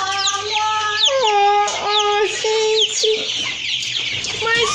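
Several hens in an aviary cluck and squawk close by, their overlapping rising calls continuous over a low background murmur.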